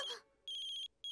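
A mobile phone ringtone in an Italian cartoon for children plays as bright, high electronic beeps in two repeating bursts, following a brief voice at the start.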